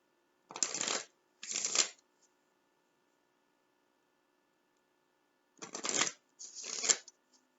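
A deck of cards being shuffled and pulled, heard as four crisp riffling bursts in two pairs, close and clear, with a long silent pause between the pairs.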